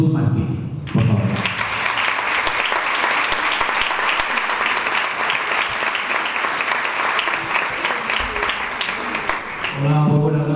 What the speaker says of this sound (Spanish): os pido un fuerte aplauso para recibir a Jesús Martín, por favor